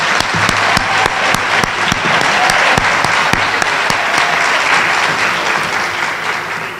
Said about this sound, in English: Let's give another round of applause to the choir.